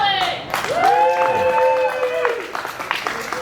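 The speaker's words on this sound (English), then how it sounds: "Round of applause for Alex." An audience applauds and cheers for a comedian at a live comedy class show at Schulz Brau, with a voice talking over the clapping for most of it.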